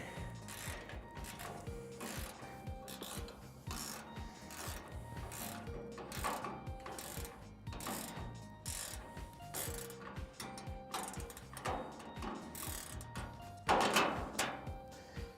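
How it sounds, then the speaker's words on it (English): Ratchet wrench tightening bolts on steel wall braces of a swimming pool under construction, a steady stream of rapid clicking strokes at close range with occasional scraping and metal knocks, no talking. "You have the ratchet end on that one, so that makes it easier. So just tighten that top one up for me."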